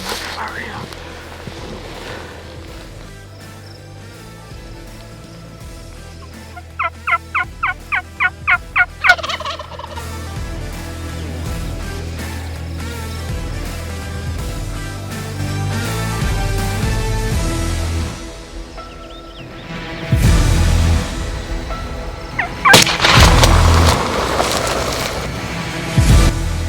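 Wild turkeys gobble during a spring turkey hunt, with a rapid run of loud gobbles near the middle and further bursts later, some close and some distant, while hunters whisper and talk quietly in the woods.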